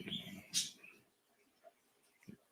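A pet bird kept indoors in a city gives a few quick, high chirps, one louder burst near the start and softer peeps after, close by over low room noise.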